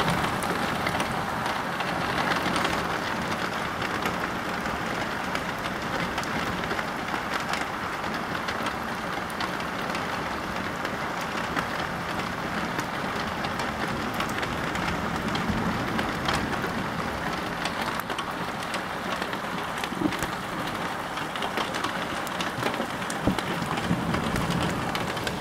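Heavy thunderstorm rain pours steadily and loudly throughout, a dense, even hiss of downpour spattering surfaces close by, during a moderate-to-strong storm with an arcus cloud in Amboise.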